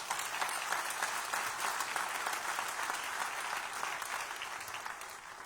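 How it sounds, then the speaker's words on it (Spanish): A church congregation applauds steadily and loudly for several seconds, a dense sustained wash of many clapping hands that eases slightly toward the end. "Denle un aplauso a Jesús."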